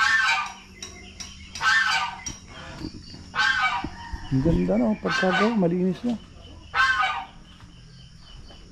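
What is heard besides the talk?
turkey gobbling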